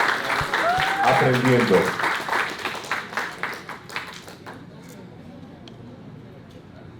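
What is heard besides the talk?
audience applause for a conference speaker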